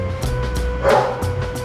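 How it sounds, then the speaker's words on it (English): Dogs bark in the background, several short yips and barks in an irregular series over a steady low hum, fairly close and moderately loud. "including dogs barking in the background right now"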